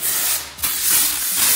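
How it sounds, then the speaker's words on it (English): Detail spray hisses from a hand spray bottle onto a car's paint during a rinseless wash, loud and close in steady bursts with a short pause between pumps, no talking. "I'm gonna spray that on."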